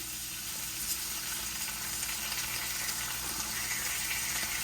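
Minced garlic and parsley sizzle steadily in a hot pan while making pesto cream beef penne, a soft, continuous crackling hiss with no voices.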